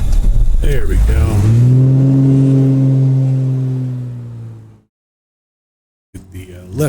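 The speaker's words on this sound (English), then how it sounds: "Get the left engine started here." A Beechcraft Baron's left engine cranks and catches in Microsoft Flight Simulator, rising into a loud steady drone that slowly fades out, then breaks into silence before more noise returns.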